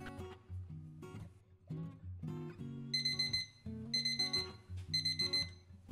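A kitchen timer goes off for bread dough proofing, ringing in repeated bursts of bright electronic melody tones, fairly clear and close with no talk.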